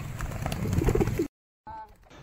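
Racing pigeons out on a training flight, heard as a dense stretch of bird cooing and fluttering close by that stops abruptly, then returns more faintly with light calls after a pause.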